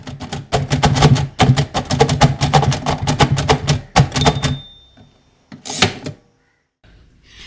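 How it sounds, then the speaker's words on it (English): A Braille typewriter is struck in rapid, loud clacking bursts from children learning to write Braille, with brief pauses between runs, then a final clunk and quiet. "Listen to this Braille typewriter."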